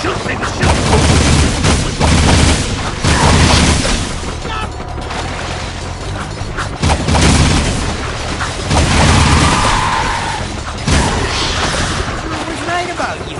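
Gunfire in the video game Jak 2 comes as loud, dense bursts of shots and booming blasts, repeated in waves with short lulls between volleys.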